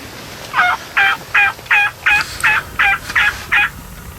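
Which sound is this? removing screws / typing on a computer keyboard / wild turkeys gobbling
wild turkeys gobbling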